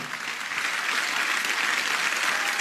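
A crowd applauds the honoured champions Magali Comte and Yann Godel with steady, even clapping that holds at a constant level for a few seconds with no talk over it.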